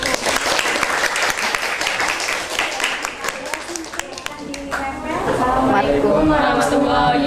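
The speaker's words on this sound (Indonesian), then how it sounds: "Oke, kasih aplaus untuk kelompok 1." A classroom group gets applause: a crowd of students claps steadily and close by for several seconds, the clapping swelling toward the end as voices chatter and call out over it.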